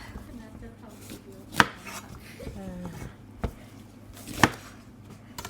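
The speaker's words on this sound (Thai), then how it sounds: "มาหั่นผักด้วยกันนะคะ" Bell peppers being chopped on a cutting board: a few sharp knife knocks spaced unevenly, with light board and utensil clatter between them, close and fairly quiet.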